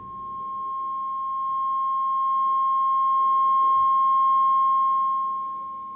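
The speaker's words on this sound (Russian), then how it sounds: "то в наушниках оператор тоже будет слышать сигнал частотой 50 Гц" A steady, continuous electronic tone from the headphones of a KP-500K cable locator receiver tracing a 50 Hz signal, holding level for several seconds with a faint low hum underneath.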